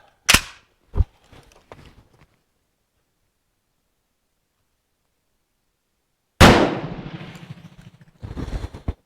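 Several sharp shots from a Swedish-designed Hakim rifle ring out up close: two or three crisp cracks at the start, then a long silence, and a final loud report with a lingering echo followed by mechanical rattling.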